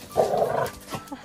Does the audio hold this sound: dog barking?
yes